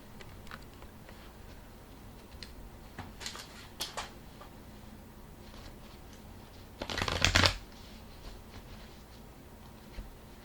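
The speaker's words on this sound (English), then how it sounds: "I'm just going to shuffle the cards." A deck of oracle cards being shuffled close by, soft riffling ticks through the clip and one louder, longer riffle burst near the end.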